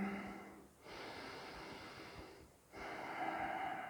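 Slow, steady yoga breathing during an evening flow class, a long airy breath broken by two brief pauses, close and soft with no talking.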